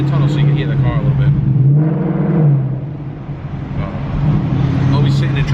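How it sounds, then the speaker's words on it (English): A modified 700-horsepower 2018 Ford Mustang GT V8 drones steadily inside a tunnel, its low exhaust hum swelling and easing with a hollow, echoing tone, while someone talks over it. "I'm in a tunnel so you can hear the car a little bit."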